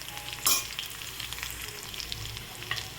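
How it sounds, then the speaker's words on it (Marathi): Cumin seeds and garlic sizzle in hot oil in a home kitchen, a steady close crackle. A brief louder burst of spitting comes early on, with no talking. "तर हे तेल गरम झालेलं आहे, याच्यामध्ये जिरे घालायचे, छान फुलू द्यायचं. लसूण घालायचं."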